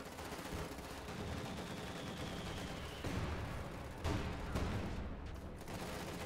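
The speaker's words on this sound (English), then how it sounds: "Nasty grenade goes off from the bundle grenade goes off on the conscript squad" A bundle grenade blasts on a conscript squad in a Company of Heroes 2 battle, heard as dense, loud combat noise with a sharper burst partway through, amid steady rattling gunfire and explosions.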